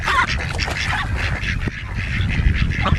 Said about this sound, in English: We are at the duck farm.